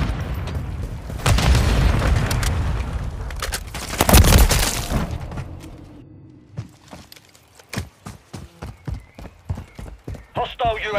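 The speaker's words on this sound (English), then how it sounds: "Throwing grenade! Stun grenade!" Call of Duty: Modern Warfare combat with a loud stun grenade blast and sustained roaring gunfire, then a run of rapid, evenly spaced sharp shots as the chaos fades.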